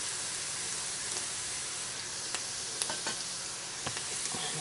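Onions caramelize in a pan with a steady close sizzle, scattered with small pops and crackles, and no one talks over it.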